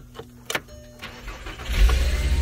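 A 2008 Volkswagen Jetta engine cranks and catches after a few faint clicks, then settles into a low, steady idle rumble close by.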